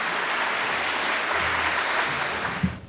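Audience at a university project launch in Istanbul applauding as the rector is welcomed on stage, a dense, loud wash of clapping that tails off near the end.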